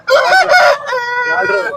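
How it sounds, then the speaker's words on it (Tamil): A rooster at a poultry market in Kunnathur crows loudly and close by, one long harmonic cock-a-doodle-doo with a strained, drawn-out tail and no talk over it. "வள்ளுவர் சேவல் கொண்டு வந்திருக்காங்க"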